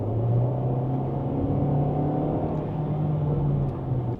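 A Dongfeng T5 EVO SUV engine holds a steady high-rev drone from inside the cabin, a loud continuous hum with a slight pitch shift and no talk.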